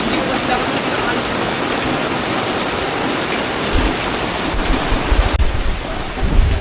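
Steady heavy rain from a thunderstorm pours down, with low thunder rumbling in during the last few seconds.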